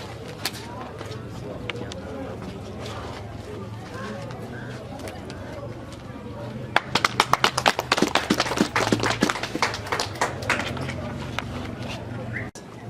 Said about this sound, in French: C'est alors que le patron de Butembo passe à la coupure du ruban sous les acclamations de l'assistance.